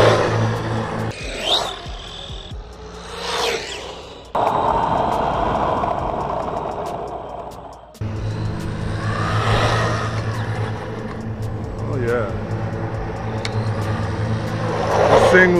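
An Arrma Granite 4x4 3S V3 1/10 brushless RC monster truck whines and buzzes at high pitch, rising and falling in bursts, with short gaps between runs and a steady background hum.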